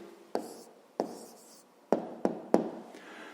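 A pen writing down the answer to a school math exercise, five sharp taps and short scratches spaced irregularly, close and fairly quiet, alone without talk.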